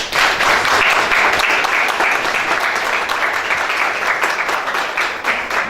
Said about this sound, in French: Je voudrais avec votre permission que nous puissions l'applaudir.